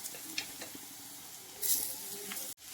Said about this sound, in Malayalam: ഈ സമയത്ത് നമ്മൾ നമ്മുടെ ക്യാബേജ് ഇങ്ങനെ ഇട്ട് കൊടുക്കാം